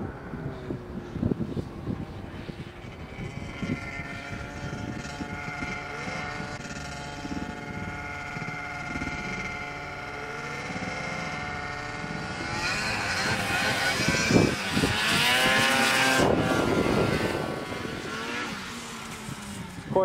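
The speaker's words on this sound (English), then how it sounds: "All right, we're out playing on the snowmobile today." An 800 snowmobile engine drones steadily during a ride through snow, its pitch rising and falling as the sled revs harder near the end, heavily buffeted by wind noise on the microphone.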